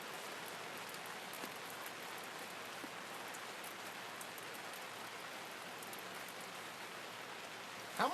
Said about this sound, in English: Starting to rain pretty good now.